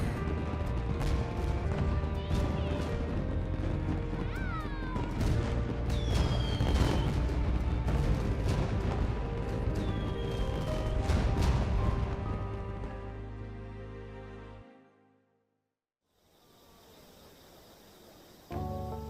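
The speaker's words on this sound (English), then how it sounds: "Man, I never saw fireworks from that close up before." Fireworks bursting close by in Persona 5 Strikers during a summer festival scene, a loud continuous barrage of booms, crackles and whistling rockets that fades out near the end before a brief return.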